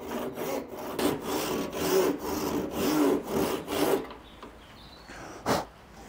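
Hand saw cutting a recess into the tops of wooden table legs made from DIY-store timber, a steady run of rasping back-and-forth strokes for about four seconds, then quiet with a single knock.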